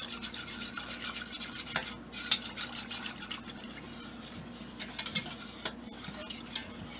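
Sauce for chicken cordon bleu is stirred in a pan on the stove, with a soft simmering sizzle underneath and irregular close scrapes and clinks of a utensil against the metal.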